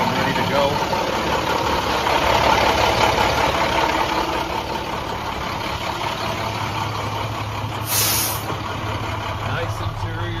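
A 2011 International WorkStar 7400 truck idling steadily with a constant low engine rumble, close and continuous, and a brief hiss of air brake release near the end.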